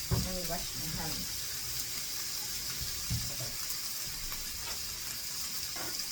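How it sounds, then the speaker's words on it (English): Tap water runs steadily into a kitchen sink while hands are washed during quesadilla cooking, a continuous hiss and splash heard close up with a person talking over it. "Let me wash my hands."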